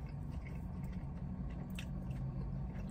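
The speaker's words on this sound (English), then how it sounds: "The chicken gordita crunch." Close, steady crunching and chewing of a Taco Bell ground beef gordita crunch: wet, squishy bites repeating for a few seconds with no talk.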